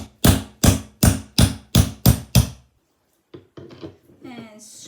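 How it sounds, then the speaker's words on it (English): Seven sharp hammer blows drive a lathe centre into wood in a quick, even rhythm, followed by a pause and a few lighter knocks and rattles. "and then I shall hammer this in"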